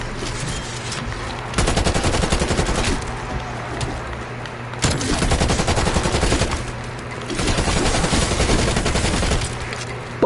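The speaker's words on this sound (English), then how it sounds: "Bullet after bullet, baby" Sustained automatic gunfire in Call of Duty Black Ops comes in loud, dense bursts separated by brief lulls, each volley rattling rapidly and filling the mix.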